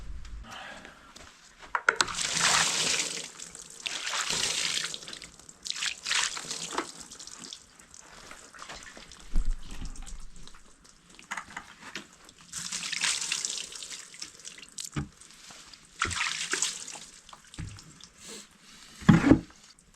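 Water gushes from a tap in bursts, loud splashing and hissing flows that start and stop several times over twenty seconds, separated by quieter drips and handling noises.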